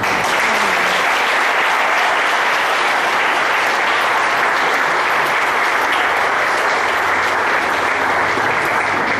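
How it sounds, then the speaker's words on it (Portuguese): A church congregation claps in loud, sustained applause, a dense wash of many hands that holds steady at full strength from start to finish. "Aplauda o Senhor."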